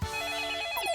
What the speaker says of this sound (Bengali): দেখুন আবার কে ফোন করলো